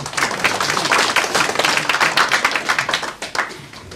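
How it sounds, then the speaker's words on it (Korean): An indoor audience claps continuously at a small business association event, a dense burst of applause that tapers off toward the end. "여러분 큰 박수로."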